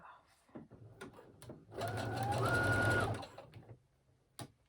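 Home sewing machine stitching elastic onto the top edge of leggings, one steady whirring run of about a second and a half, close, framed by faint handling clicks.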